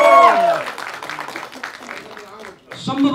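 An audience claps for a film producer at the Kri trailer release event, with a dense burst of applause early that thins under an ongoing voice.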